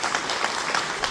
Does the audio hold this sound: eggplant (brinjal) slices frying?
no